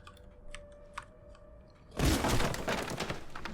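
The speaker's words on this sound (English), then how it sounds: "I just shatter it with a casual kick from my left foot" Wooden door in the video game Alan Wake shattering under a kick: a sudden loud splintering crash about two seconds in, with a dense burst of breaking debris lingering after quiet ambient noise and faint ticks.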